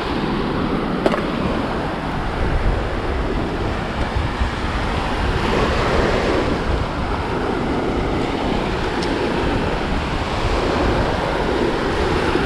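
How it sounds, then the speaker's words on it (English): Ocean waves wash steadily onto a beach during shell hunting, a loud continuous roar of surf with gusty wind noise on the microphone and no talking. "That wave almost took them from me."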